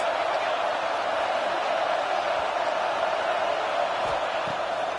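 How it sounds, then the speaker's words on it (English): A football stadium crowd roars steadily behind the defense on third down at an NC State game. The continuous broad wall of cheering sits at a moderate distance. "Big 3rd down as the crowd gets behind this defense."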